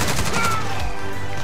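Video game gunfire rings out as a loud, close burst of rapid shots in the first half-second, then tails off into a softer rumble with no voices.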